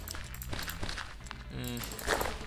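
Footsteps on sand from the Sphax PureBDcraft sound pack for Minecraft, a run of soft, gritty steps repeating steadily at close range over a low background.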